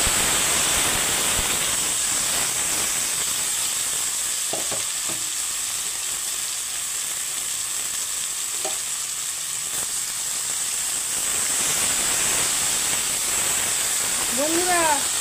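Okra and a dried red chilli with whole cumin seeds frying in hot oil give a steady, close sizzle and hiss for the whole span, with a few clinks of stirring partway through.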